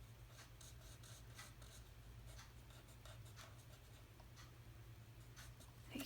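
Stamp-set marker nib colouring on paper, shading in a figure's hair with dark Daffodil Delight: soft, steady scratchy strokes over a constant low hum, fairly faint and close.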